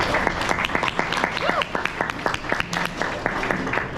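Audience applause after a talk at a water industry expo, a moderate round of clapping with distinct individual claps audible and voices chattering over it.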